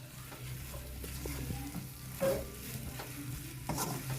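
Food is stirred in a lightly oiled teflon pan, with a soft, steady low sizzle and a few quiet scrapes of the spatula, faint and close.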